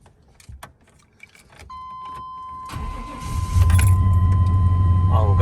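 An old truck rumbles as it starts and rolls forward, keys jangling and a chime ringing before the engine settles into a loud, steady low drone, with people talking nearby.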